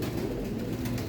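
Ferozpuri pigeons cooing nearby, a soft low burbling coo that runs continuously through the moment.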